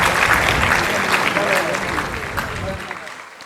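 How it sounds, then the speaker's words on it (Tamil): Audience applause at a Tamil talk on anti-corruption bodies, a loud burst of steady clapping that gradually thins and fades toward the end, with some voices underneath. "அதற்காக மிகவும் பெரிய கைத்தட்டல் கொடுக்குமாறு கேட்டுக்கொள்கிறேன்."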